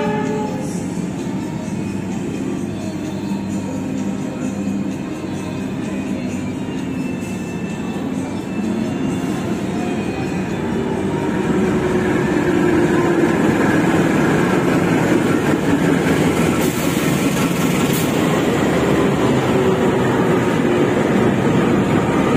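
A Manahan passenger train standing at platform 5 of Kroya station, a steady loud low rumble of engine and rail noise that swells and grows louder about halfway through, with no voices.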